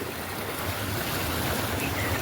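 Irrigation water pours steadily into a maize field, a continuous broadband rush and gurgle that stays even and fairly close throughout, with no voices.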